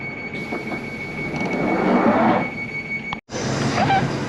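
A London Underground Northern Line train on the Edgware branch rumbles steadily with a broad roar, a brief dropout near the end, then continues; a faint steady tone runs throughout.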